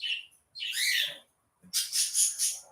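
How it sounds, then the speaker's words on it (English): Loud, close birds squawk and chirp in shrill bursts, one harsh call near the start and a longer chattering run of several calls after a short pause, with no talking. "Sorry for the birds being really loud."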